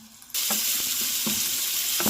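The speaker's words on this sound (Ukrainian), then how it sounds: "обсмажуємо це все на олії до м'якості" After a brief quiet moment, onion and carrot hit hot oil in a frying pan over medium heat and sizzle loudly and steadily, with a few soft stirring knocks.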